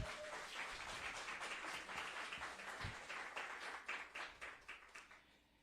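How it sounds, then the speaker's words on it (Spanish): A church congregation gives applause to the Lord during a sermon, a soft, fairly distant spatter of hand claps that grows into a few sharper, separate claps near the end. "Vamos a darle un aplauso al Señor por eso."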